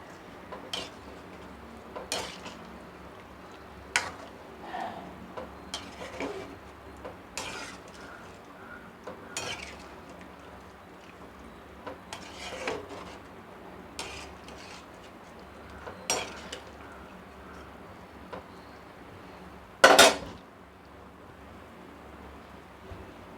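Mutton head curry in a pot being stirred after tamarind water is poured in, with sparse, evenly spaced ladle taps and scrapes over a low simmering background and one louder clatter near the end.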